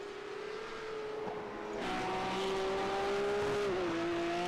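Race car engine in a sim racing game at Spa-Francorchamps, a loud, steady high-pitched drone that climbs in pitch through the gears, with a brief dip at a shift, continuous and close.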